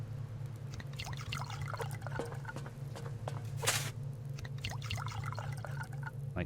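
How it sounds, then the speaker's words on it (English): Plants being watered in the survival video game Subsistence: a soft, steady trickle with scattered drips over a low background hum, with no talking. "And then these ones we're just going to give water."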